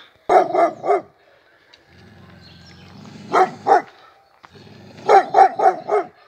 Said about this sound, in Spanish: Ese perro me atacó ahorita. Se me aventó ahí